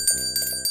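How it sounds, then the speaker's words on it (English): A notification bell rings in a brief, bright series of overlapping metallic dings. "Also don't forget to ring that bell."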